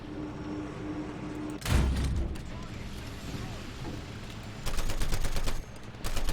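Tank machine guns firing in the War Thunder video game: a short loud burst early on, then a longer rapid, steady burst of gunfire near the end, over a constant background of engine and battle noise.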